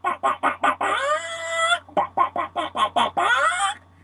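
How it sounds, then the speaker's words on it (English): A cartoonish chicken sound effect clucks in quick, evenly spaced bursts, each run ending in a long, drawn-out squawk. The pattern repeats twice, loud and alone with no talk. "G-Man turned into a chicken"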